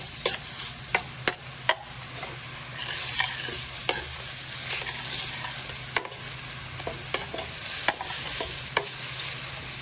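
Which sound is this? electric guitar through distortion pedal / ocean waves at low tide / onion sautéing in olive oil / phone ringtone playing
onion sautéing in olive oil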